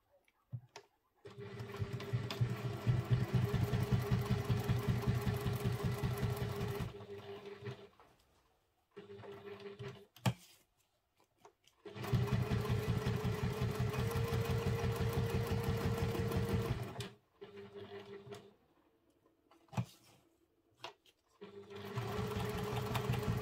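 A sewing machine stitches a wallet pocket, running in long steady whirring bursts with a fast mechanical rhythm, separated by short pauses and brief stop-start runs for back stitching, close and alone.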